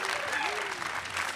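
Audience applause fills a stadium at a Westminster University commencement ceremony in 2026, a steady dense patter of clapping with a voice speaking over it throughout.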